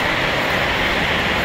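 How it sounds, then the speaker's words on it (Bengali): Steady, loud rumble and hiss of a metro train running through a station, a continuous wash of rail noise filling the space with no voices. "মেট্রো স্টেশনের অবস্থা।"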